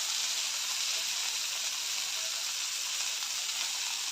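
Sprouted mung beans with onion and tomato roast in a hot pan, giving off a steady, dense sizzle that holds evenly throughout without pauses or voices.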